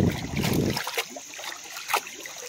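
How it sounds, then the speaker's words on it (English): Creek water splashes and sloshes as an old late-1800s bottle is washed, a burst of close splashing at the start followed by lighter trickles and small splashes. "All right, I'm down here at the creek about to wash this off."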